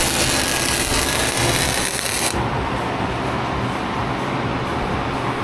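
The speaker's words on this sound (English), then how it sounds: "Now I'm going to weld these guards onto these bits here." Metal guards are welded onto a rusty boat trailer during repair, giving a loud, dense buzzing crackle for about two seconds before it cuts to a lower steady rumble of shop noise, with no voices.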